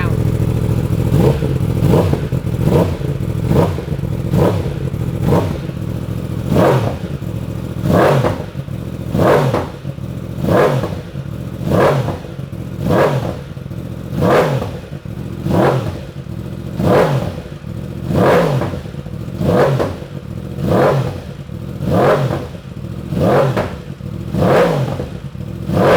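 A 2018 Yamaha R1M sport motorcycle engine with an aftermarket exhaust revs repeatedly in loud rhythmic bursts, each rising and falling roughly every second, close and raspy throughout.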